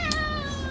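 A cat meows in a single clear, tonal call near the start, with a steady background hum behind it.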